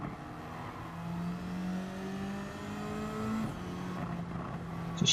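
A race car engine in a racing video game revs up steadily, then drops pitch in a quick short-shift and climbs again, a continuous loud engine drone that runs throughout without voices.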